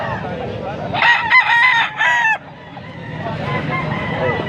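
A young gamecock (stag) at a gamecock sale crows once, loud and close, in a strained call lasting about a second and a half, with a low murmur of background noise before and after.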